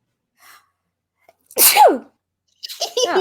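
A single sharp, loud sneeze up close in a quiet indoor room, followed moments later by a brief spoken reaction.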